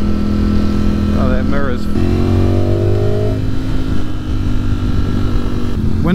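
A Ducati Streetfighter V4 or Aprilia Tuono V4 Factory is ridden hard, its engine rising through gears with quick-shifter upshifts before settling into a loud, steady drone with wind roar, while a rider speaks briefly over it.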